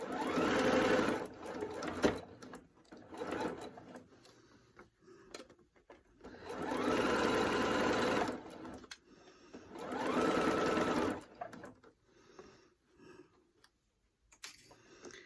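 Sewing machine stitching a fabric phone pocket, running in several bursts of rapid mechanical whirring and clatter separated by short pauses with small clicks as the fabric is repositioned, close and clear.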